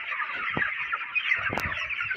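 A flock of chickens on a poultry farm keeps up a steady murmur of clucking, with a few sharper clucks standing out from the dense background chatter.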